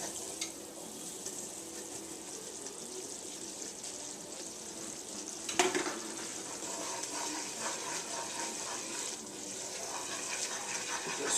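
Chili powder being stirred into tamale filling in a pan: a steady close sizzle and frying hiss with scraping stir strokes, one sharper knock partway through, and no talking.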